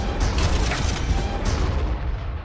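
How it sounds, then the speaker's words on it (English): Basilisk artillery fire in the game Armageddon, during urban combat: a steady, loud rumble of overlapping booms and blasts that carries on throughout without letting up. "have some artillery."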